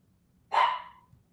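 A single dog bark, sharp and fairly close, rising out of a quiet room and trailing off quickly, with no talking.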